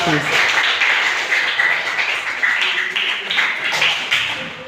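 A room full of people at a school health education session claps steadily for several seconds, a close, continuous round of applause.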